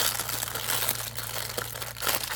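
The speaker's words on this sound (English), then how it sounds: "I hate the sound of rustling plastic." Plastic packaging rustles and crinkles close up, a dense, uneven crackle over a low steady hum, with no talk.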